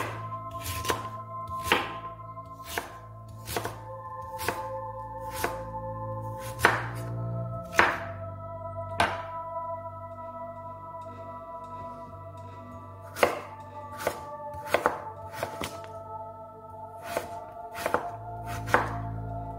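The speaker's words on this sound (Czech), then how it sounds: "Práci s nožem postupujeme opatrně, brambory si rozčtvrtíme a poté následně nakrájíme." A knife chops sweet potatoes into pieces on a cutting board, giving sharp, close thunks, some single and some in quick runs, with short pauses between bursts.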